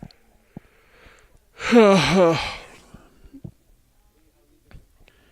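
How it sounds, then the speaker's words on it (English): One person yawns, a long drawn-out breath of about a second that rises and falls in pitch, followed by faint small rustles and clicks in an otherwise quiet space. "Shit, I'm yawning."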